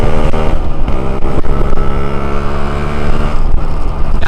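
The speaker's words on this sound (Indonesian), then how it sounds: "knalpotnya ini udah diganti cuy ya, diganti dengan dari knalpot standarnya cuy" A Yamaha RX King motorcycle fitted with an aftermarket exhaust in place of the stock one, ridden on a road. Its engine note is loud, close and continuous, with a steady throb and slight revving swells throughout.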